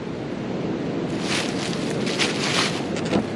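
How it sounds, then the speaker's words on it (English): Wind gusts outdoors in a whitetail deer bedding area among trees and brush, a steady broad rush that swells louder partway through, with no talking. "It's windy out today."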